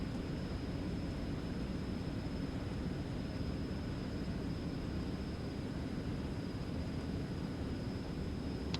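Eclipse 550 business jet accelerating down the runway on its takeoff roll in X-Plane 11, a steady, loud broadband engine roar with airflow hiss that holds constant throughout.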